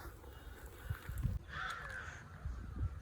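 Crows caw amid the birdsong of a calm, quiet hillside at Malayadi Mala Sree Mahadevar Temple with flowers and plants, a few harsh calls mid-clip standing out over low background rumble.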